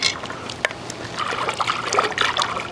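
A young chimpanzee splashing in pool water gives close, irregular sloshes and trickles of moving water, with one sharper slap partway through.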